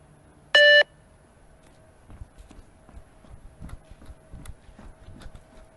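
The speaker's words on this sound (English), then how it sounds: "Level 1 starts with a triple bleep after a 5-second countdown" A single loud electronic beep from a 20m multistage fitness bleep test rings out clearly, followed by faint irregular thuds and footfalls in a quiet room.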